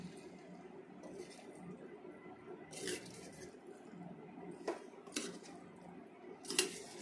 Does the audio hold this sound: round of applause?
no